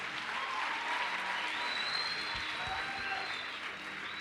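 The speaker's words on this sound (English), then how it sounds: "If you're going to clap, you have to do it better." An audience claps steadily through an evening session of a youth camp couples discussion panel, a dense, even patter of many hands heard close and sustained, with no voices over it.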